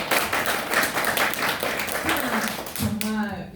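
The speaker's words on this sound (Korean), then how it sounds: "박수." Audience clapping at a talk, dense applause filling most of the stretch before fading, with a voice briefly rising over the end.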